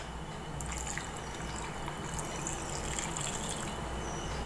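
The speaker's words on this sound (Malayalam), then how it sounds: "ഒരു 1/2 ഗ്ലാസ് വെള്ളം ഒഴിച്ച് കൊടുക്കാം." Half a glass of water pours steadily into rose apple juice in a jar, a soft continuous splashing trickle heard close and alone.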